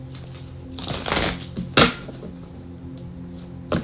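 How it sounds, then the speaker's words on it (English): Brief riffling bursts of a tarot deck being shuffled, two or three quick rustling flurries close by, with faint background hum. "This deck can't shuffle."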